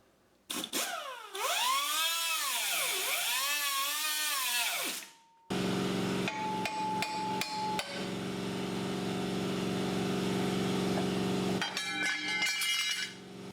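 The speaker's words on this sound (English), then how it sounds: "now we're just going to drill out these holes" A power drill whines and rises in pitch at first, then grinding, rattling work drilling holes in a metal plate with short sharp knocks continues loudly and close by.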